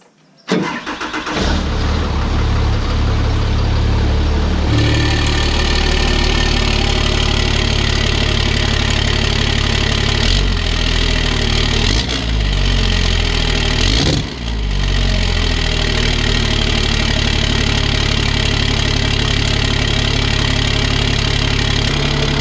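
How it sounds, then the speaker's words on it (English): A Cummins diesel truck engine with a hood stack exhaust cutout cranks and starts, then idles loudly and steadily with a deep rumble, close up, with brief revs along the way. "Well, truck's warming up."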